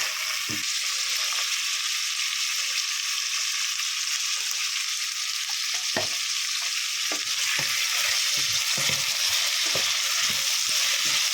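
Bacon and sweet chorizo crackle loudly in a hot pan, a continuous close sizzle broken in the second half by repeated thumps and scrapes of stirring.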